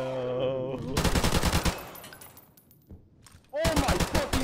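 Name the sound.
assault rifle gunfire in the video game Modern Warfare Remastered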